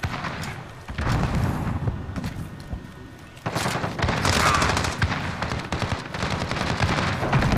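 Video game gunfire with Nikto and PKM weapons crackles in repeated bursts and rapid volleys, some dense and close, others sparser after a brief lull.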